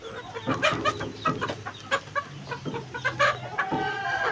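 Chickens clucking nearby in quick bursts, several birds calling over one another with short sharp notes and an uneven rhythm.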